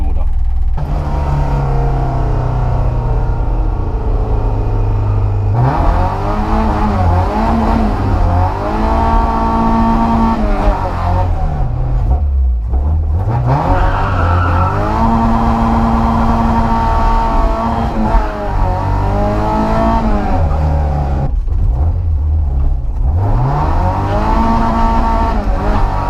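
A car engine running rough on a shakedown drive after sitting unused for a long time, loud and close, its drone rising and falling through repeated revs and gear changes over the whole stretch.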